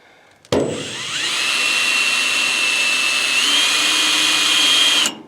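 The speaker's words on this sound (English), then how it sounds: "So we're going to start drilling." A power drill whirs steadily into a plastisol-coated steel fence post, a loud continuous high-pitched grind that starts abruptly and runs for several seconds before stopping.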